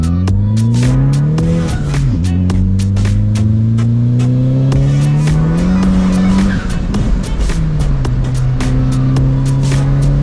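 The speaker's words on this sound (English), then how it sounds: "I decided to have Mike take the car for a test drive himself." A Chevrolet HHR SS with a nagging misfire code on a test drive, its engine droning steadily and loudly with rising and falling revs through gear changes, and no talking.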